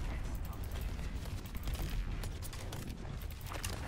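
A turret in the game Overwatch fires bursts of rapid gunfire in a busy, noisy fight. The shots are fairly faint and blend into the background.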